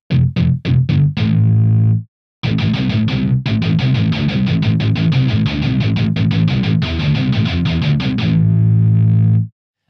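A distorted pluck synth imitates a palm-muted heavy metal guitar. A few stabs come first, then a short gap, then a long run of fast, tight, chugging notes that ends on a sustained chord, loud and unaccompanied.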